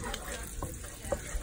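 Shrimp strips frying in a homemade sauce, giving a brief, close, continuous sizzle with faint bubbling and a couple of small utensil taps.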